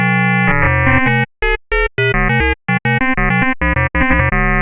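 Serum 2 synthesizer notes play in short bursts with gaps between them, buzzy and harmonically rich, with odd warbling tones.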